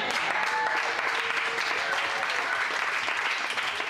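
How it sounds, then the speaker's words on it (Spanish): A church congregation at an anniversary service applauds loudly and steadily, a dense wash of clapping filling the whole stretch with a few voices mixed in. "Denle ese aplauso fuerte al Rey de Reyes y Señor de Señores."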